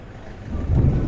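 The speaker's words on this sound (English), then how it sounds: "Don't know if you can hear this thunder in the background." A low rumble of thunder in Pattaya rolls in from a distance, starting faint and swelling over about a second.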